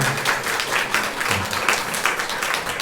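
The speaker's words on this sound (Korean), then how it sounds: "우리 도일이 저 뒤에 있는데 박수로 또 크게 환영해 주세요" A church congregation claps to welcome a young man home on leave, a loud, dense patter of hands that rises and falls in slight waves, with a faint murmur of voices beneath.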